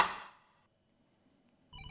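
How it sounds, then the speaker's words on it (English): Phone ringtone in the Lovecraftian horror game Desolatium, a bright electronic ring that sounds once and decays into near silence, then starts again abruptly just before the end, faint and alone with no talk. "Is that a phone ringing?"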